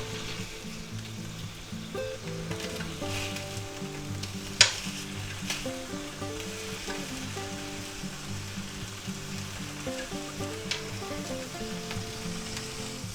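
Sliced ham sizzles and fries steadily in a pan, a constant crackling hiss with one sharp clatter partway through, no voices.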